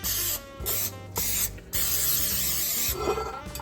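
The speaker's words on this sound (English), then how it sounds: "I do want to spray the casserole dish." Several short hissing bursts of an aerosol cooking spray onto a casserole dish, four or five quick sprays close up, with brief pauses between them.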